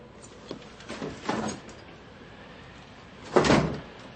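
A servant closing a door in an audiobook sound effect, a soft creak and a couple of muffled knocks followed by a firmer shut near the end, moderately quiet with no voices.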